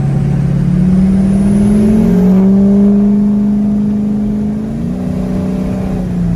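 A 6.0L Power Stroke diesel truck fitted with a loud aftermarket turbo accelerates on the road, engine drone climbing steadily in pitch under a strong, continuous turbo whine, loud and close from inside the cab.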